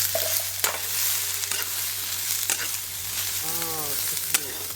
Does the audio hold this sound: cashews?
yes